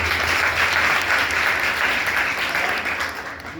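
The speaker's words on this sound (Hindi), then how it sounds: "उनके लिए तालियां" A college audience applauds during a police safety talk, a sustained, even roar of many hands clapping that stays full for most of its length and gradually tapers off at the close.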